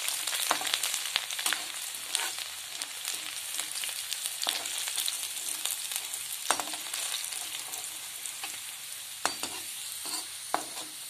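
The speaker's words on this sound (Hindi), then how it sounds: "लहसुन भुनकर तैयार हो गया" Garlic roasting in a pan with cumin seeds, a steady dense sizzle and crackle with occasional sharp pops and stirring scrapes throughout; close, continuous and without talk.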